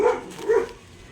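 Two quick barks from a dog, moderately loud and nearby, followed by a short quiet stretch.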